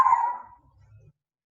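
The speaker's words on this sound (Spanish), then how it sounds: "perdón por mis perritos" Dogs in the background of a home recording, one brief sharp bark at the start followed by faint low whimpering or grumbling that fades out.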